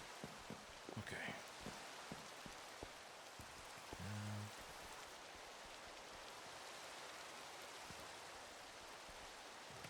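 Rain falls on the wooden roof and walls of a house in Minecraft, a soft, even patter with scattered drops ticking throughout and a brief low tone partway in, with no voices.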